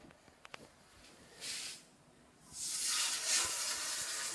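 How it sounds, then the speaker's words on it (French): A piece of meat laid into a hot pan sizzles, a brief hiss first and then a louder, steady searing crackle that continues, with faint clinks of a fork before it and no talking. "Vous déposez la pièce de viande."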